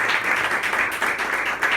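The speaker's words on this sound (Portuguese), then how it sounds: "Batam palmas ao Senhor." A church congregation claps their hands together in a dense, continuous burst of many overlapping claps that fills the room, with faint voices underneath.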